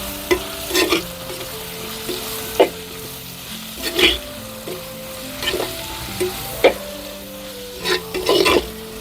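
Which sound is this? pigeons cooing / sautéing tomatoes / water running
sautéing tomatoes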